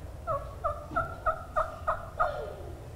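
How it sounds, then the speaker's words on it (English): Roosted wild turkeys gobble far off, a series of about seven faint, evenly spaced gobbles over a low, quiet outdoor background. "I don't even know if you'll be able to hear the turkeys gobble"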